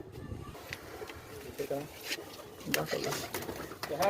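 Double-crested Chinese pigeons coo nearby in short, throaty bursts at a pigeon competition in Amritsar, mixed with rustling and faint background voices.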